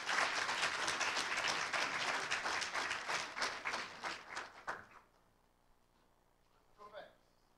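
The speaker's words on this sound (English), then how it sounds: "Give a nice round of applause." A panel audience applauds after a question session on regulatory challenges, a dense burst of clapping that tapers off over about five seconds into near silence, followed by a brief voice.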